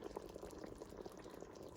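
Broccoli cheese soup bubbling as it cooks in an Instant Pot, a soft, steady simmer of small pops and gurgles, faint and continuous throughout.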